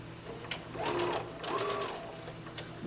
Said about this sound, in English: Then I start sewing.